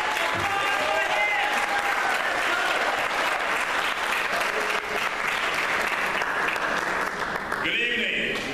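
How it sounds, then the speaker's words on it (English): Sustained applause from a gala audience at a scholarship event, a dense, steady wash of clapping throughout with some chatter and a voice mixed in underneath. "Let's give a round of applause for him."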